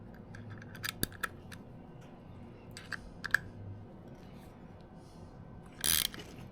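A ratchet tightens bolts while lowering springs are installed on a Toyota GR86. Sparse, sharp metallic clicks come close by over a quiet workshop hum, followed by a short, dense burst of rapid clicking near the end.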